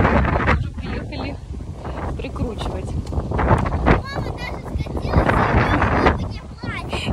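Strong outdoor wind buffets the microphone in gusty low rumbles and thumps while people talk over it in bursts, with brief higher chirping sounds in the background.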